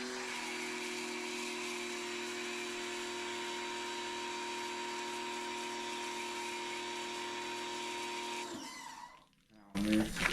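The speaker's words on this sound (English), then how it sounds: "Turn on the pressure washer." A pressure washer runs steadily with a constant whining motor hum and spray hiss for about eight seconds, close by, then cuts off and clatters briefly near the end.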